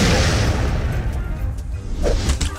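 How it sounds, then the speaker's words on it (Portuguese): A TNT block blows up in the video game Charlie the Steak, a loud, dense blast that rumbles on as sustained broadband noise for the whole stretch. "Explodiu, coitado."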